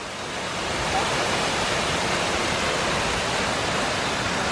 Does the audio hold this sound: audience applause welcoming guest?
no